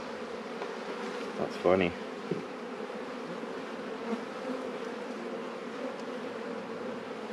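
Honeybees hum steadily at an open hive during a pollen flow, a dense continuous drone filling the whole stretch, with a brief louder bee passing close and a short remark spoken over it.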